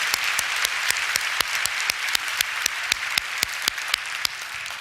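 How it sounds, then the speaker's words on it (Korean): Congregation at a church prayer meeting breaks into steady applause, a dense wash of many hands clapping continuously with a few sharper claps standing out, sustained at even loudness throughout. "그 결심의 박수 한번 해볼까요?"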